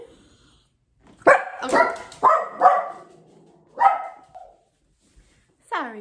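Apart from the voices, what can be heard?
small dog barking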